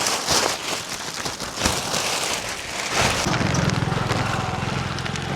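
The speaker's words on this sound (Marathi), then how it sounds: "जोरदार पाऊस आलाय लय." Heavy rain pours at an outdoor spot in Golap on the Konkan coast. The close, loud, dense rush continues throughout, and a low rumble joins it in the second half.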